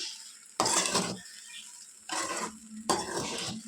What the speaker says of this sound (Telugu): సో ఇప్పుడు బాగా మిక్స్ చేసుకోవాలి.